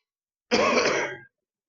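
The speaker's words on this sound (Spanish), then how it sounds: "Voy a toser toda la casa." A single person gives one short, loud, close throat-clearing cough, a rough burst lasting under a second, then silence.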